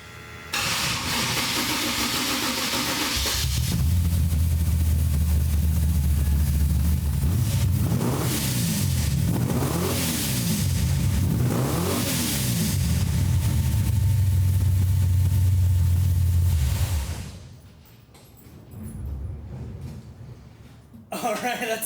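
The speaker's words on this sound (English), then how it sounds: "It's definitely lower and rumblier, but it cuts out a lot of the high tones, so the engine just sounds deeper and more aggressive." A car engine fitted with a new stainless steel exhaust starts and revs repeatedly, a deep, loud rumble swelling and falling in several strong pulls before cutting back to a quieter idle.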